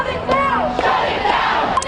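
A street protest crowd in the middle of Fifth Avenue at an abortion-rights rally, voices raised together in loud shouting and chanting, with a rising and falling cry standing out near the front.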